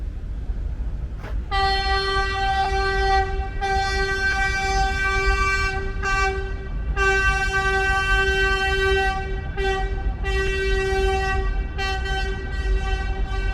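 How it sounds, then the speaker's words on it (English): A vintage subway train on the elevated line at River Avenue by Yankee Stadium in the South Bronx on Opening Day, sounding a loud, sustained tonal horn in repeated long blasts over heavy rumbling rail noise. "goes a classic train right now. It's a different one."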